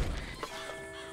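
A horse whinnies in the video game Red Dead Redemption 2: a short, fairly loud neigh over a dull game-world background.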